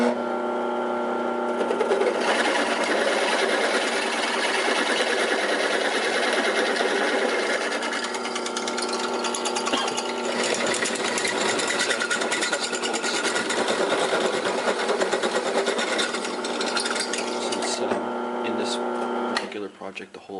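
A drill bores holes in metal robot frame components, making a continuous, close, buzzing mechanical whir with a steady tone that runs almost unbroken for about twenty seconds before it winds down and sputters at the end.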